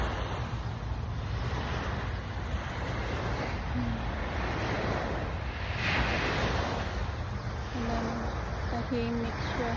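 Sea waves wash in steadily at East Coast Park in Singapore, a soft continuous surf with wind noise on the microphone and a few faint tonal sounds near the end.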